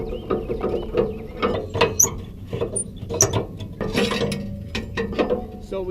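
Metal ramp latch and mechanism on an RV tow dolly being worked and pulled back: a close run of clanks, ratcheting clicks and scraping knocks in uneven bursts, with no voices.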